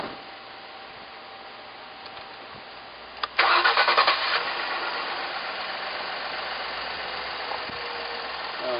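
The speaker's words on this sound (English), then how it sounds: "we're going to start the truck up" A 2011 Ford F-150 EcoBoost pickup truck engine cranks briefly, catches and starts, then settles into a steady, moderately loud idle.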